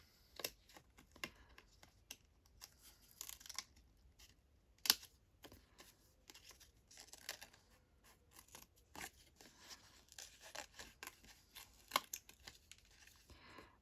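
Scissors snip through paper for a junk journal craft, close and quiet, a series of irregular short cuts and crisp rustles spread across the stretch with no speech.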